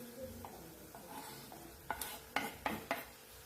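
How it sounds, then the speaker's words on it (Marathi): Finely chopped tomato being stirred into onions sautéing in oil in a pan, with a few sharp spatula scrapes against the pan over a faint sizzle. "टमाटा पण छान तेलावर परतून घ्यायचा आहे"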